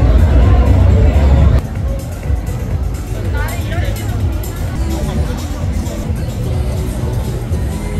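A dense crowd of young people fills a nightlife street of bars in Itaewon, Seoul, with steady babble and hubbub throughout, and nearby voices talk over it.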